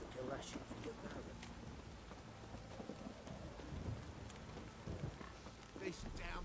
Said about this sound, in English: This downpour's a bastard in it